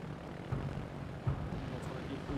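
A fighter aircraft engine in the World of Warships naval game, a faint, steady droning hum that holds evenly throughout with no clear breaks.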